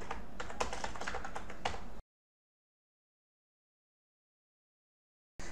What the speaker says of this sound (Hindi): इसमें हम नाम टाइप कर देते हैं